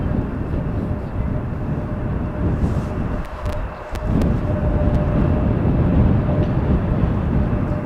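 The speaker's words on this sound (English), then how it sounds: "That's the 737 coming in from Madrid" A Boeing 737 airliner from Madrid lands at Amsterdam Schiphol on runway 18R in gusty crosswind, its loud, steady broadband roar filling the scene with a brief dip midway, no voices present.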